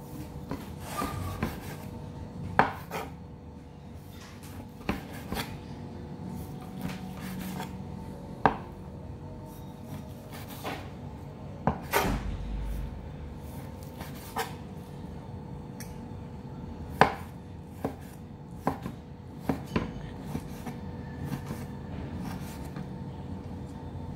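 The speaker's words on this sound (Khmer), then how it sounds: "សាច់ជ្រូកយើងហាន់វាចំណិតស្ដើងស្ដើង" A knife slicing pork into thin pieces on a board gives scattered, irregular cuts and taps against soft rubbing and scraping, close and moderately quiet.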